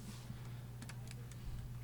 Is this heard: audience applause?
no